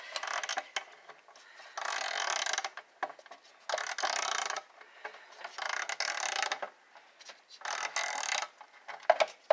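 A ratchet clicks in repeated bursts while loosening a spark plug on a 2015 Chrysler 200 Limited, five or six short rapid ratcheting runs with pauses between, close and clear.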